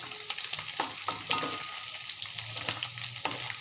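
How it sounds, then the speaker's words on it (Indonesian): Chicken crackles and sizzles steadily in hot oil, with occasional clinks and scrapes of stirring and turning over the constant frying hiss. "Menggoreng ini tidak lama ya, jadi harus sabar kalau mau benar-benar matang merata."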